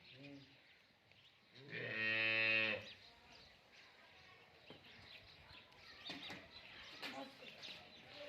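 A Cholistani Friesian cross dairy cow in Pakistan, standing during milking, lets out one loud, drawn-out moo midway, followed by quieter scattered farmyard noises and faint chirps.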